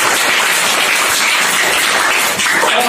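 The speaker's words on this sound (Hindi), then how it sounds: "तो एक बार जोरदार ताली बजाओ।" Students at a school quiz competition burst into a sustained round of loud, dense clapping and applause lasting the full few seconds, with no talk over it.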